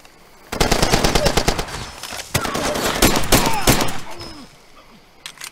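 Automatic gunfire from the shooter game Far Cry 2: loud, rapid bursts of shots run for several seconds with a brief pause midway, then taper off into quieter background noise.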